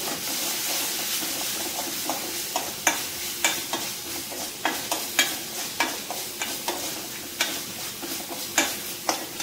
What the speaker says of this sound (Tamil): இது நல்லா வதங்கட்டும் கொஞ்சம் நேரம்.